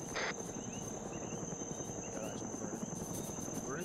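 A helicopter hovers in a military combat video game, its rotor wash a steady, dense drone with a faint high whine running throughout, holding constant at moderate distance with no speech.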